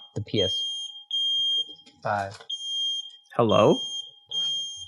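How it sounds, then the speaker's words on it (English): A smoke alarm chirps in short, steady high-pitched beeps at regular intervals with no smoke present, while a person speaks between and over them. "I think that was the smoke alarm, but there's no smoke."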